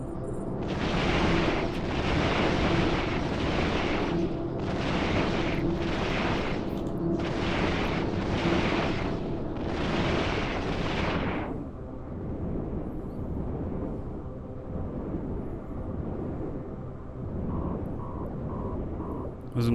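Ship weapons in EVE Online fire at NPC rats in a string of loud, rumbling bursts, several grouped in pairs, followed by a steady low hum of the ship.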